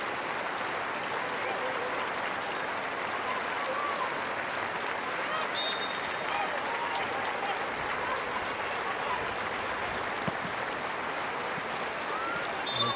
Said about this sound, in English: An impeccably observed minute of applause for Poppy Atkinson here in North London.